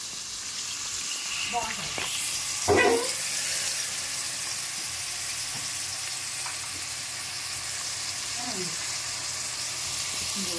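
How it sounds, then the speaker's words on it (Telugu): Onions fry in hot oil with a constant close sizzle and hiss, broken by occasional utensil clinks while someone talks briefly over the cooking. "ఇదిగోండి ఉల్లిపాయలు, నూనె మరిగిందండి, ఉల్లిపాయలు వేస్తున్నాను"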